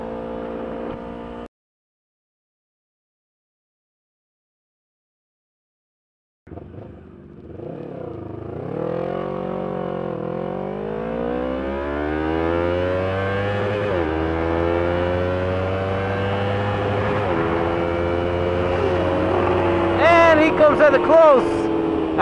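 A modified Yamaha R3 motorcycle is ridden on open roads. After a brief pause the engine revs climb and fall through repeated gear changes, loud and close, and the roar grows sharper toward the end.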